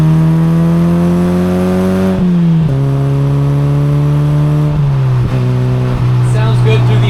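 A Mazda NC Miata engine hums loud and close at held revs, its pitch stepping slightly down a few times as the throttle eases off and settles again.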